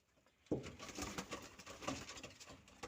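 Pigeons coo and flutter close by in a steady, busy murmur of soft throaty calls, with a sudden onset and no talking.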